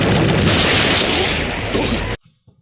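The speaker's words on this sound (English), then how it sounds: "just shoot him!" A shooting blast effect from the Japanese superhero series Kaizoku Sentai Gokaiger roars loud and dense for about two seconds, then cuts off abruptly into near silence with a couple of faint thumps.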